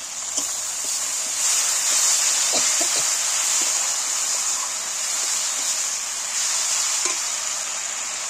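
Cornflour slurry stirred into soybean curry simmering in a pan gives a steady, close bubbling sizzle throughout, with a few faint clinks and scrapes and no talking.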